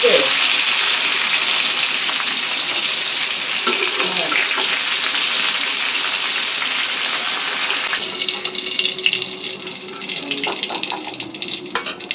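Potatoes frying in leftover oil from frying pointed gourd give a loud, steady hissing sizzle close by, easing slightly later as occasional stirring clicks come through.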